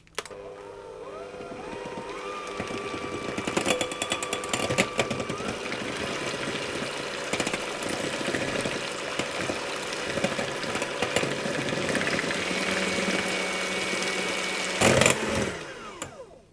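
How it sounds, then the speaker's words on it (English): Electric whisk whipping cream with icing sugar and vanilla extract toward thick peaks, a steady close motor whirr running throughout with rattling clicks of the beaters against the bowl, the pitch shifting slightly as it works. "I'm going to whisk it until it achieves sort of thick peaks"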